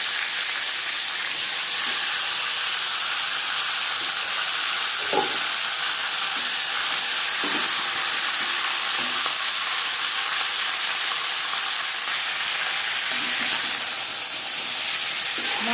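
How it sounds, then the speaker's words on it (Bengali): A catla fish head fries in three spoons of hot refined oil with a loud, continuous sizzle and hiss, broken by a few faint clinks and shifts. "3 চামচ রিফাইন্ড অয়েল গরম করে নেওয়ার পর দিয়ে দিলাম"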